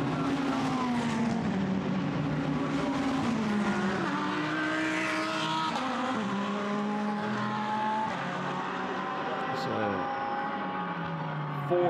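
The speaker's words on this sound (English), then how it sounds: "There's the Ferrari as it makes its way across start-finish line." A Ferrari GT race car at Monza during Blancpain GT Series Endurance Cup pre-qualifying roars past the start-finish line, its engine note sweeping up and down through gear changes, loud and continuous under commentator talk.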